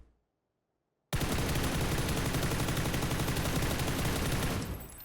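Sustained automatic FAMAS fire in PUBG: after a second of silence, a long, rapid, evenly spaced burst of loud shots runs almost to the end, then cuts off with a short tail.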